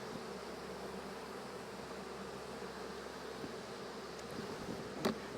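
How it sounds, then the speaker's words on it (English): Honeybees drone in a constant low swarm around a honey-laden hive frame, quiet and even throughout, with a single sharp knock near the end. "Just let these bees shake down."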